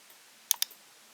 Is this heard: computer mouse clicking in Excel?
yes